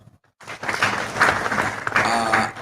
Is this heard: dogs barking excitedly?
no